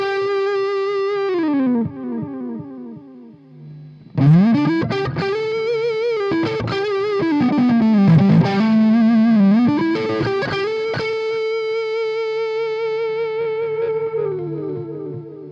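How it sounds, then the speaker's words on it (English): Lead guitar played through a TC Electronic Nova Delay pedal set to dynamic delay: sustained, bending melodic notes with a smooth distorted tone, a held note, a brief pause, then a busier phrase of bends and quick notes trailing into delay repeats. "I'm just going to choose the dynamic delay using this button here, and basically it's going to smooth out the lead sound"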